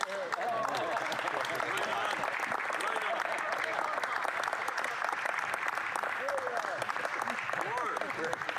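Steady audience applause fills the room at a political speech in Canada, a dense, even clapping from a crowd heard at moderate distance, sustained throughout.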